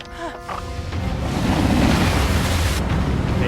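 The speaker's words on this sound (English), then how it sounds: "Bending the water." Rushing water surges and roars as a character bends water in the animated series Avatar: The Last Airbender, building from a brief tonal sound into a loud, sustained wash.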